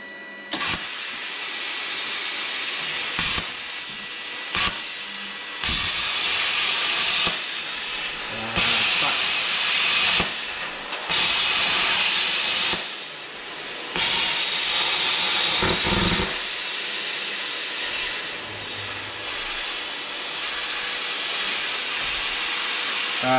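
A homemade hobby CNC plasma cutter cuts through steel with a loud, continuous roaring hiss, broken by several sharp interruptions and shifts in intensity.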